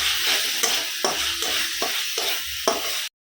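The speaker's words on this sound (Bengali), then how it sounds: "কথায় কথায় সয়াবিনের তরকারি কিন্তু রান্না বসিয়ে দিয়েছি" Soybean curry bubbles and sizzles in a pan, a continuous hiss broken by regular scraping strokes of a spatula against the metal, close and fairly loud, stopping abruptly at the end.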